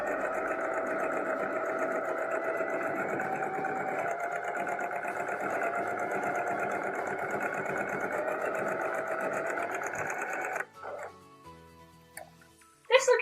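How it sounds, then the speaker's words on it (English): A sewing machine runs in one steady, even whir for about ten seconds while stitching a second line alongside a dress seam, then stops, leaving brief handling clicks and a dog yipping at the end. "move your needle to about 1/8 of an inch away from the seam and sew another line alongside it"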